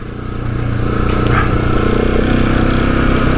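A motorcycle rides off-road on a rough track at Cape Melville in Cape York, with the engine droning loud and close and steady throughout.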